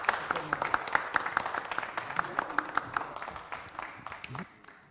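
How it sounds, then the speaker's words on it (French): Scattered clapping from an audience, a burst of handclaps that thins out toward the end, with voices murmuring underneath. "Je vous demande d'applaudir comme il se doit."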